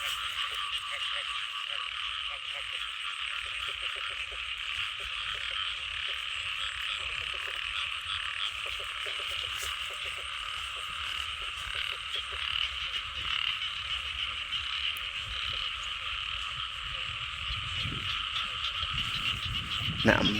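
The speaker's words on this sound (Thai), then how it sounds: "บรรยากาศเสียงกบเสียงเขียดห้องสนั่น" A loud chorus of frogs croaks at night by water in rural Thailand, a dense continuous pulsing drone of many callers, near and unbroken throughout with no talk.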